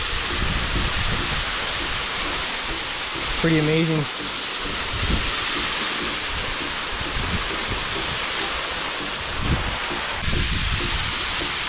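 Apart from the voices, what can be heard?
waterfall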